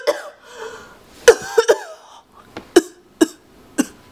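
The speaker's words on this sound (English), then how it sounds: "I actually hate it when people don't cover their cough around me" Harsh, close coughing: a few throaty coughs early, then a run of short sharp coughs spaced about half a second apart, loud and uncovered-sounding with no speech.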